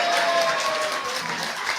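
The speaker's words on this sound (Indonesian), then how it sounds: "Tepuk tangan." Audience applause at a live stand-up comedy session, a brief, fairly loud burst of clapping and crowd noise with some voices mixed in.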